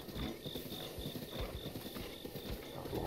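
Steady clip-clop of horse hooves trotting at an even rhythm in The Legend of Zelda: Breath of the Wild, with a faint repeating electronic beep and a constant background hum.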